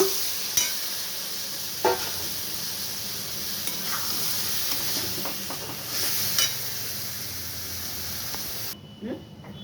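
Boiled potatoes and chickpeas go into a hot pan for a chickpea curry, raising a steady broadband sizzle with a few scraping stir knocks; the frying continues close and even throughout, then cuts off abruptly near the end.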